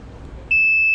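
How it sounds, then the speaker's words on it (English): A Tesla Model S electric frunk control unit gives a single sharp, steady electronic beep that starts abruptly and holds clear and loud after a quiet moment of faint background hum. "and then you'll hear a beep."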